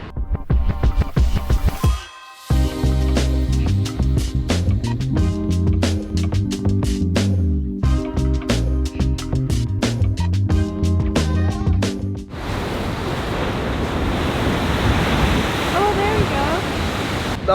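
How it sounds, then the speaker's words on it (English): Big, powerful ocean waves crash and surge against a rocky blowhole geyser, a loud continuous roar of churning surf and spray with heavy wind rumble throughout. "the waves are so big and powerful"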